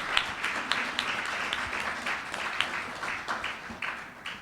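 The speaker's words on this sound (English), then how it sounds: "Round of applause for our debutantes." Steady applause from a seated crowd at a Bahamas debutante ball, many hands clapping together at moderate distance with a few sharper nearby claps, sustained evenly throughout.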